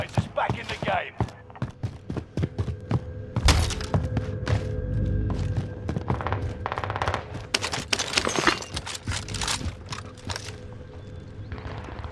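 Video game gunfire in a squad match: loud bursts of automatic fire and heavy thuds come in quick clusters, with some short breaks, all through the scene.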